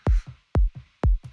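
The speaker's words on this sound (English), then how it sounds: "You can hear the kick over here." Electronic kick drum in a dance track, three short punchy thumps at an even steady pulse, loud and alone.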